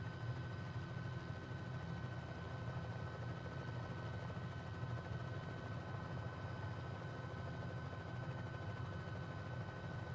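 A Bell 206L helicopter in a flight simulator game, flying VFR, holds a steady, even turbine and rotor drone that stays constant throughout, with no talk.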